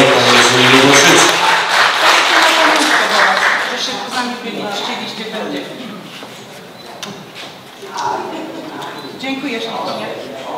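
Audience applause at a tenth-anniversary jubilee concert of the Polish folk ensemble Nadodrzanie, loud and dense at first, then thinning into scattered clapping with crowd murmur and an announcer's voice over it.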